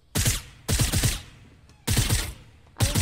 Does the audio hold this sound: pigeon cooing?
no